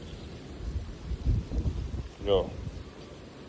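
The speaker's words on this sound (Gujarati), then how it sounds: "વરસાદ તો નથી પણ થોડા છાંટા ચાલુ છે" Light drizzle falling outside, a soft continuous patter with faint low rumbles, while someone speaks briefly over it.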